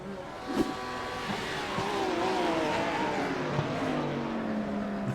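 A GT3 race car laps Zandvoort, its engine note loud and rising then easing through gear changes, with a brief thump near the start and steady track noise throughout.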